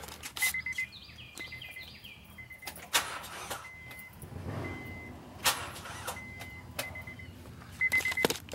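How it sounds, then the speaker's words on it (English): A dead car fails to start: the door chime beeps in repeated short tones while clicks and a brief low grind come and go, but the engine never catches. "this car will not start. Let me uh, go in here and try to key."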